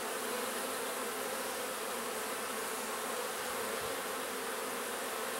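Honeybees at a hive brood frame make a dense, continuous buzzing hum, steady and enveloping with no pauses or voices.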